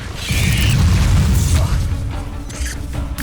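An Incendio fire spell cast in the Hogwarts Legacy video game: a loud, roaring whoosh of flame with a low rumble that lasts a couple of seconds, then fades into game ambience.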